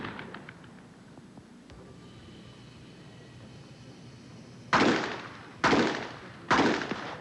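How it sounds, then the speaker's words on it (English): Three sharp, loud gunshots from a Smith & Wesson Model 686 revolver with a 6-inch barrel and Aimpoint scope, fired at a 1987 Bianchi Cup pistol match, evenly spaced near the end after a quiet stretch. "He's shooting a Smith & Wesson Model 686 with a 6-inch barrel and an Aimpoint scope"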